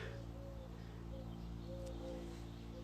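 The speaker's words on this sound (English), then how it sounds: "I need to know the name of that bird" A bird outside a window gives faint, repeated cuckoo-like coos in short phrases, distant and soft over a steady indoor hum.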